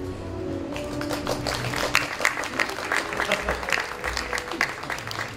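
An audience applauds at the introduction of a panel speaker, a burst of many hands clapping in a dense, fairly close patter that starts abruptly and continues steadily.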